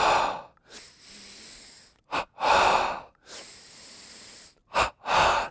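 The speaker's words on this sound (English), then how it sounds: "Double breathing." Rhythmic yogic breathing during a yoga class, a series of loud, close forceful breaths in two-part bursts separated by short pauses, with no talking.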